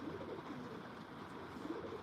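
Pigeons coo softly in low, rounded murmurs, repeating in a gentle rhythm against a quiet outdoor background, with no talking.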